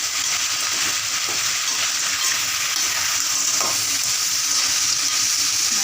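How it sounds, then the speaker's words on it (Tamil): Crab cooking in oil in a pan, an even, continuous close sizzle with a few faint clicks of stirring, loud and unbroken with no voices. "நல்லா நண்டு வேகட்டும்,"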